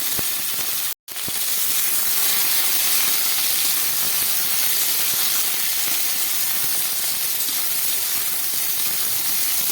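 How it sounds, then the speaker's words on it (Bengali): Drumstick stalks fry lightly in a pan for a poppy-seed dish, giving a continuous close sizzle and hiss that breaks briefly near the start, then carries on evenly without talk. "একটু হালকা ভেজে নিই।"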